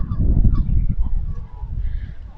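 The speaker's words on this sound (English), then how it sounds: "There go the geese now." A flock of geese honks repeatedly at close range on a riverside walk in Stratford-upon-Avon, a dense overlapping chorus of nasal calls that thins slightly toward the end.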